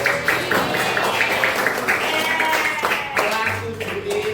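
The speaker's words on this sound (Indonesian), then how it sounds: "Ya, tepuk tangan dulu." Students in a classroom clap together, a dense patter of hand claps mixed with chatter and voices throughout.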